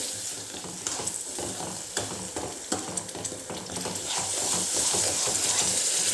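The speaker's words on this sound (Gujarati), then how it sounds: "હવે આ બધું સરસ મિક્સ કરી લેવાનું છે" Dabeli masala mixture being stirred in a pan, with repeated scraping and clinking strokes of a spoon against metal over a soft background sizzle, close and steady with no talking.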